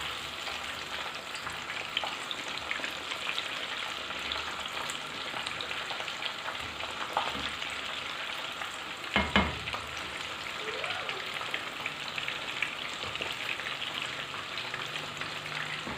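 Finger fish pieces sizzle steadily in oil in a pan over medium-low heat, a constant close crackle with a brief louder clatter midway as the pieces are turned over.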